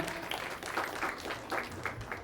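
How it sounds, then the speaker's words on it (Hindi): Audience applause at a birthday and Raksha Bandhan celebration, honoring a first-place winner; moderate, continuous clapping from a group, with irregular bursts over a soft room background. "जोरदार तालियों से इनका।"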